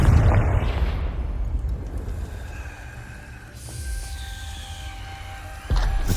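A Confringo blasting spell goes off in Hogwarts Legacy with a loud burst at the start, then a rumbling tail and lingering magical hum, with a second heavy thud near the end.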